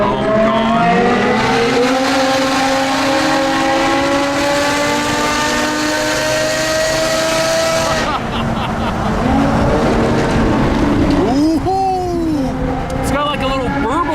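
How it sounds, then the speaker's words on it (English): Car with a loud exhaust revving hard in a rising and falling tone, then cutting to a lumpy burbling idle with sharp popping backfires, close by, with people talking over it. "It's got like a little burble tune going on there. The backfires."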